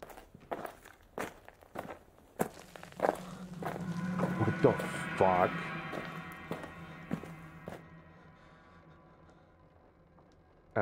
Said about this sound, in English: I also heard the footsteps.